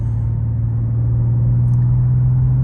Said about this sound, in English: The exhaust gets a little bit louder.